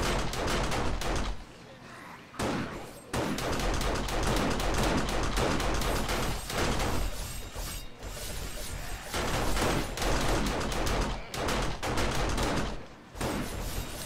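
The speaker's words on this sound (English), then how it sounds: "Now the turrets are the best because the turrets killed the radiated mobs also" Rapid bursts of automatic turret gunfire cutting down radiated mobs in 7 Days to Die, loud and dense with brief pauses between volleys, steady mechanical clatter throughout.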